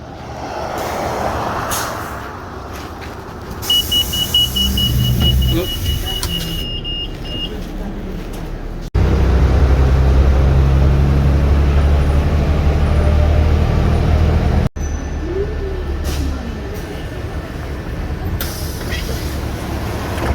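A Winnipeg city bus at its final stop, with engine rumble, an air-brake hiss and door sounds. The steady engine noise is loudest in the middle stretch, and people talk intermittently.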